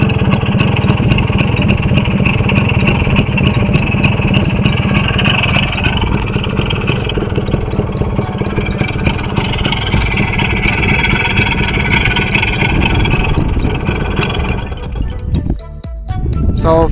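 A Suzuki motorcycle engine runs loud and close with a rough, steady throb and some rises in revs, then drops away abruptly near the end.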